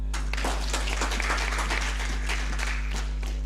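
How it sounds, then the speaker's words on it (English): An audience at a regional aviation meeting claps in a conference hall, a moderate spread of scattered handclaps over a steady low hum, with no talking. "I thought we were going to clap to that."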